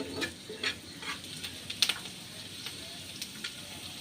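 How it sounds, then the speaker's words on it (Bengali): Sliced onions and a few garlic slivers fry in a pan for chicken bhuna, a faint steady sizzle broken by soft scraping stirs and light clicks of a spoon against the pan. "ভালোভাবে একটু নেড়ে নিয়ে এটাকে ভেজে নিচ্ছি পেঁয়াজটা।"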